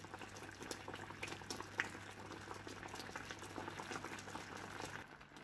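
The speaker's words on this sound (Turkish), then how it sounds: "Kabaklar kaynayana kadar altını harlı açtım." Pumpkin pieces for Turkish pumpkin dessert boil in a pot over high heat, making a faint, steady, close bubbling with no voices.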